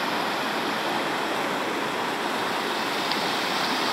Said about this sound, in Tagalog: Grabe ang agos ng tubig